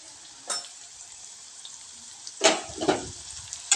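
Chilli powder and coriander powder being stirred in a pan for a spicy brinjal curry: a faint background sizzle broken by a few soft scraping stirs, one early and a pair near the end.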